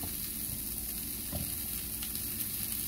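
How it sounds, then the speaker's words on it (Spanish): Quinoa boils in a pot on the stove, giving a steady, close, hissing bubble that stays even and unbroken throughout. "Aquí ya está la quinoa, ya está hirviendo."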